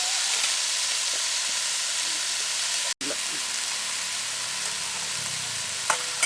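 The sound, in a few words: squeezed mushrooms frying in a pan for mushroom thoran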